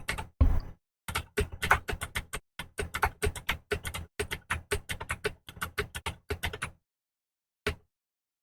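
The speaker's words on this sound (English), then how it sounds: "Now let's quickly type in the data." Quick bursts of keystrokes on a computer keyboard as data is entered, a close, crisp run of clicks in uneven rhythm that stops, leaving silence and one final tap.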